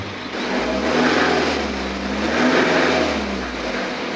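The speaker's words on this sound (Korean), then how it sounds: "지금 엔진에서 아무 소리도 안 나는데요 악셀을 밟아보면" A 2013 BMW X3 xDrive 20d diesel engine with about 196,000 km and a suspected timing chain noise, revved twice under the accelerator, rising and falling in pitch, close and fairly loud.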